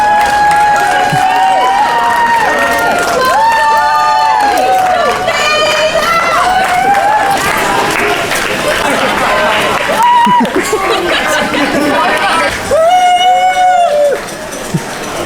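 Spectators line a road race in Plymouth, cheering the passing runners in a loud, continuous roar of shouts and whoops, with a speaking voice over the top and rising bursts of cheering.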